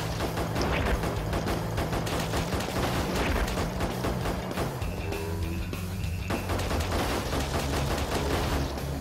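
Rapid, loud gunfire in the zombie shooter Burn Zombie Burn, dense bursts of shots repeating almost continuously over a low droning game background, without talk.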